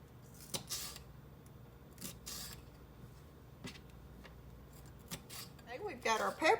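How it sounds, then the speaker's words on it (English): Thin slices of bell pepper are cut in a home kitchen, heard as a few crisp, close cutting strokes spaced out between pauses, with faint room noise and a brief clatter near the end. "we're just going to take and cut up these peppers real thin"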